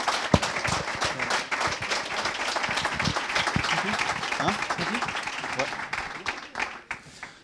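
An audience at an awards ceremony claps for an honoree, a lively burst of applause with individual hand claps standing out. Some voices murmur through it, and the clapping tapers off near the end.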